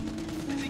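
Gunfire crackles in a GTA Online Doomsday Heist firefight, with a quick burst of shots over continuous game noise and a voice talking over the action.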